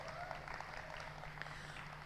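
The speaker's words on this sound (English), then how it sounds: "Let us give them a round of applause" Applause at a grand finale event, a soft, fairly distant patter of many hands with a low steady hum underneath, brief and faint.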